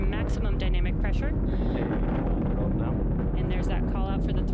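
Nine Merlin engines power a Falcon 9 ascent on a crewed mission, producing a continuous, heavy rumbling roar with rough crackle and wind buffeting and no voices.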